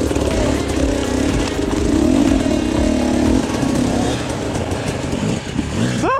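A cold enduro motorcycle engine idles roughly nearby with an uneven, lumpy putter that swells and dips, with a brief rev near the end.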